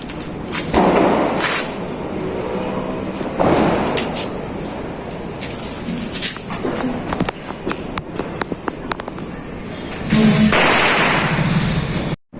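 Bijli firecrackers burst during a Deepavali celebration with friends, sending out a loud, close series of sharp bangs and crackling pops over several seconds.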